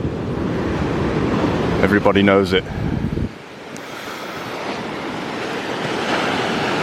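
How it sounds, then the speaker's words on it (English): High sea waves surge and wash in a steady broadband roar on a windy shore, loud and close, with someone speaking briefly over the start before the surf continues alone. "High sea this morning"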